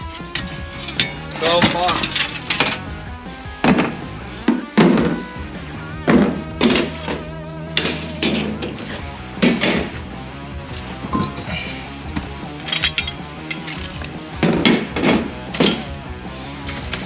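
Bolts and small metal parts from a 1967 Ford Mustang Fastback are dropped into a container in a Denver backyard, giving a series of irregular clinks, thunks and rattles with pauses between handfuls.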